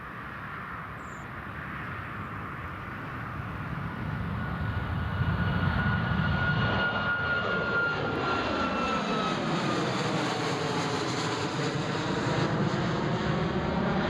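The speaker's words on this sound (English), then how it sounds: "we'll pan across to the Ryanair that's on the roll now" A Ryanair jet airliner accelerates on its takeoff roll at Newcastle International Airport, the engine roar swelling from distant to loud and sustained, with a rising whine that shifts in pitch as it passes.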